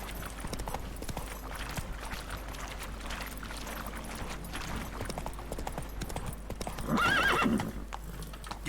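A horse galloping in The Witcher 3 game, with a steady stream of hoof clip-clops over ambient game sound, then a brief loud neigh near the end.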